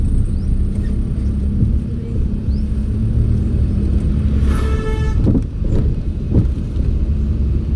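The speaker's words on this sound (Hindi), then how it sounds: "एक्सीलेटर बढ़ाओ हल्का, तभी तो गाड़ी आगे बढ़ेगी।" Car engine rumbles steadily while driving in Indian traffic, close and continuous, with a horn tooting briefly midway and other vehicle noise around.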